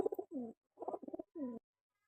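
A pigeon in a loft coos close by in three short throaty phrases separated by brief silences, quiet and alone.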